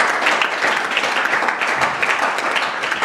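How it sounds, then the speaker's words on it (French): A studio audience at a French-language talk show breaks into steady, dense applause, many hands clapping together at an even level throughout. "J'aimerais qu'on applaudisse."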